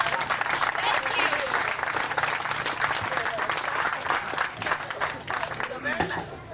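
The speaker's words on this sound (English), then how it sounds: "Give them a big round of applause." Audience applause at a luau fills the clip, with steady, dense clapping from a crowd and scattered voices under it that fade slightly near the end.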